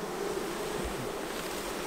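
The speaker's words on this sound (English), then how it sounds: "So we got a pretty good bit of bees over here." Honey bees buzz steadily inside a well-populated hive with sugar patty feeding, a dense continuous drone held close and even throughout, with no talking.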